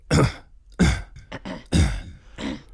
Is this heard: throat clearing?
yes